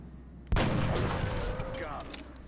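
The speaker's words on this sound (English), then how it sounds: "who can use his headshot ability to land an almost guaranteed critical hit" A sniper's headshot in the video game XCOM Enemy Within: a sudden loud gunshot blast that rolls into a decaying rumble and scattered crackle, with a voice talking over it.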